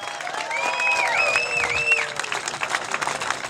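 An audience applauds at a live speaking event, a full burst of clapping that swells and then tapers off, with some crowd noise and a whistle-like tone riding over it.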